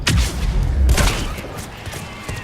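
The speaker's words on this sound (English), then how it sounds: "Fire explosion" A fire explosion erupts in the video game Mass Effect 3 amid combat: a loud close boom with crackling bursts, then a rumbling decay under scattered gunfire-like pops.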